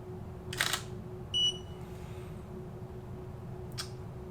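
Sony mirrorless camera shutter firing with a Godox V1 flash mounted, two sharp mechanical clicks roughly three seconds apart, with a brief electronic beep from the flash between them, close up over a steady low hum.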